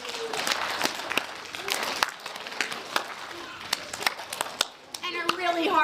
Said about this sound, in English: First we'll clap our hands just so.